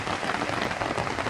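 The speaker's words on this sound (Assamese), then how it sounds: "ছাতি লৈ এনেকৈ বৰষুণৰ বতৰ উপভোগ কৰিছোঁ" Rain patters steadily on an umbrella, a dense even hiss of drops close by, continuous over a short stretch with no speech.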